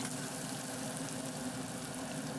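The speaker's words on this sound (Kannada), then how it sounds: "ಇವಾಗ ಈರುಳ್ಳಿ ಫ್ರೈ ಆಗ್ತಾ ಇದೆ" Onion frying in a pan for beetroot palya, a dense, even sizzle that holds steady and close throughout with no break.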